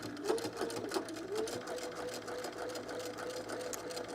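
Sewing machine stitching buttonholes on summer pants, a continuous fast rattling hum at moderate level running steadily throughout with no pauses.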